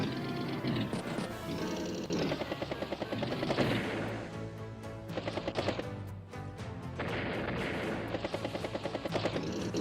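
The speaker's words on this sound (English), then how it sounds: "Battlecopter strikes battlecopter." Battlecopter attack in the Advance Wars video game: a chopping rotor drone mixed with rapid bursts of machine-gun fire, loud and continuous with brief pauses between volleys, no talk.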